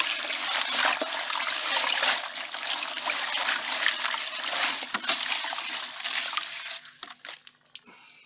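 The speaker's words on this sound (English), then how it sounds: "you just chuck your oat leaves into the just clean water and just give them a bit of a good old rinse" Oak leaves being rinsed by hand in a container of clean water: continuous sloshing and splashing close up, with water churning steadily before tapering into scattered drips and trickles at the end.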